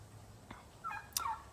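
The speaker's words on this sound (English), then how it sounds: "Those are our turkeys, if you can hear" Turkeys on a homestead gobble faintly in the distance, with a couple of short warbling calls rising over a quiet outdoor background.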